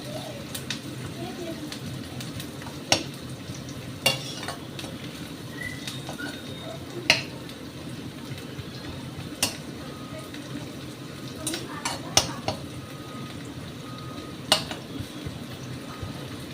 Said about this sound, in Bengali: পেঁয়াজটা ভাজতে হবে একটুখানি, খুব বলছি না মুড়মুড়ে না, কিন্তু একটু ভাজা হবে